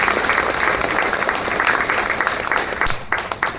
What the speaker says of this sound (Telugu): మేడంని గట్టిగా చప్పట్లతో వేదిక మీదకి ఆహ్వానించుకుంటాం